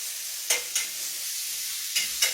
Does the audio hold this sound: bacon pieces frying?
yes